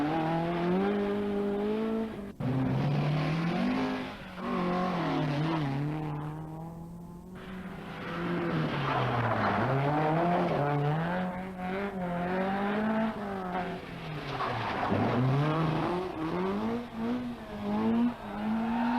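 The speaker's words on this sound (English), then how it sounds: "d Healy, the Dubliner, despite an excursion, lies second with his Escort, and he goes charging on" A Ford Escort rally car charging through a stage of the 1981 Donegal Rally, its engine howling and climbing through gears with repeated revving rises and lifts, loud and close throughout.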